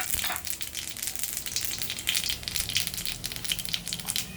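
Radhuni seeds hit hot oil in a wok and give a dense, steady crackling and spitting sizzle that runs without pause, close and fairly loud, with no voices.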